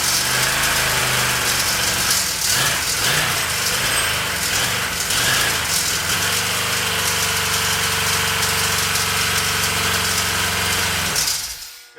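A 350 engine in a 1966 Chevrolet C-10, suffering a severe carburetor malfunction, runs loud and rough with steady droning harmonics and uneven knocking, a noisy battery charger nearby, before abruptly cutting out near the end.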